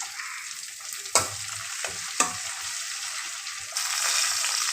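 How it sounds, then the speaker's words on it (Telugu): Mustard seeds, urad dal, curry leaves and green chillies fry in hot oil, a steady crackling sizzle with two sharp utensil knocks, then the hiss grows louder as more goes into the pan. "వన్ స్పూన్ ఆవాలు మినప్పప్పు ఒక రెండు రెమ్మలు కరివేపాకు ఫ్రై చేసి ఒక నాలుగు పచ్చిమిర్చి"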